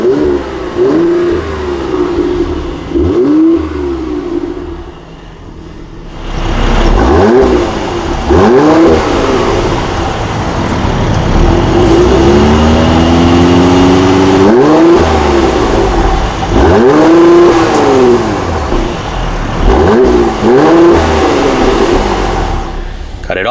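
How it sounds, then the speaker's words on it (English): A 2017 Mercedes-Benz GLC 43 AMG engine revs repeatedly against its 3,500 RPM rev limiter, loud and close. The revs rise and fall in a series of swells over a steady idle rumble, with some talk mixed in. "there's a very cool sound from this engine."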